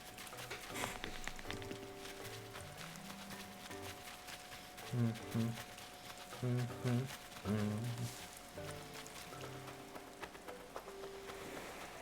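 Steady rain patters in a video game, an even, soft wash of drops running throughout beneath game music with low melodic tones, while a voice talks over it.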